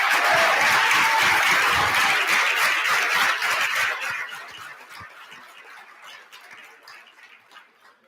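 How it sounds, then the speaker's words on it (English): An audience at an international moot court championship bursts into loud, dense clapping that thins out and fades over several seconds into scattered claps. "Give yourselves and, by proxy, them an enormous round of applause."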